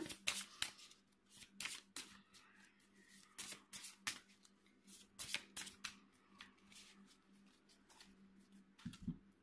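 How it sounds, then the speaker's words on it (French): Tarot cards are shuffled by hand at close range in a quiet room, a run of crisp riffling bursts and soft slides that come in irregular clusters. "pour les balances, je remélange les cartes"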